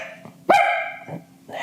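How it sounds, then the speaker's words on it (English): A puppy barks and yelps nearby in short bursts, with one sustained, higher whining bark in the middle, in an otherwise quiet room. "Puppy."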